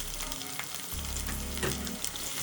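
Chopped onions fry in a pan for a lady finger curry, a steady close sizzle with a low hum underneath and occasional scrape of stirring, no voices.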